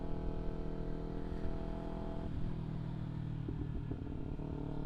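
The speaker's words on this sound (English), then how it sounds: "I get all these looks like, oh, this is a loud bike, but like, I'm at 5K RPM" Kawasaki Ninja 300 motorcycle engine held steady at about 5,000 RPM while riding through Toronto, a continuous droning hum with layered harmonic tones that shift slightly partway through, heard alone with no talking.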